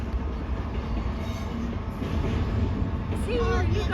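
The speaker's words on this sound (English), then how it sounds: "See, you got 2 trains in one video." Amtrak and CSX trains passing close by, a loud continuous rumble of rolling cars and wheel clatter, with a brief squealing tone near the end.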